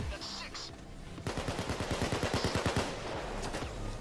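Automatic gunfire in the Payday 2 heist game, a fast rattling burst of shots following quieter game noise, with a voice speaking over part of it.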